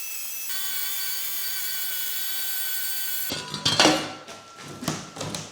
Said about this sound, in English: I'm going to show you how to cut it with a circular saw